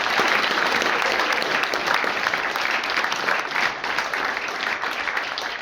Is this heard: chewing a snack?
no